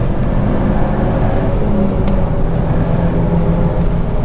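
Loud, steady roar of a car engine on a race track, held close and continuous as it pulls through the gears.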